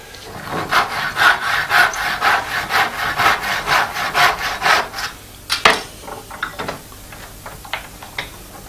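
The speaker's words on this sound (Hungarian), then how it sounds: "Körülfűrészelem" Steady back-and-forth strokes of a handsaw cutting wood, rhythmic and close, then slowing into a few scattered scraping pulls near the end.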